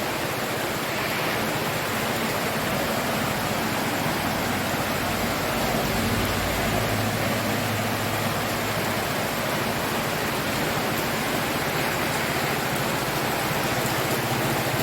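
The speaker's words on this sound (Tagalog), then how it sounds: "Lakas ng ulan talaga." Heavy rain pours steadily throughout, a dense, constant roar of water with no break, close and loud.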